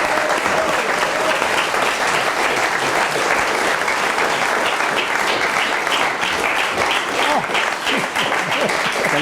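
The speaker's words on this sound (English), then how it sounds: "can I have a round of applause for everybody," Steady, dense applause from an indoor audience at the John Davies Memorial 2019 Scottish National cycling championship presentations, sustained and even throughout.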